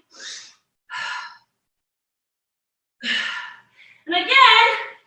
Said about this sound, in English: I'm slowly trying to slow down my breath.